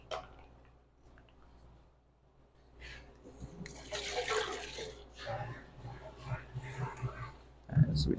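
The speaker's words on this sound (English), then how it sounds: "so we just drained our beans" Blanched green beans drained in a kitchen, with water splashing and pouring through a strainer in bursts, some clattering of the pot or colander, and a loud knock at the end.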